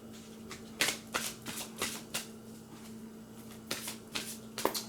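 Tarot cards being handled and shuffled, repeated papery riffles and slaps in uneven bursts, close and fairly clear, with a faint steady hum behind.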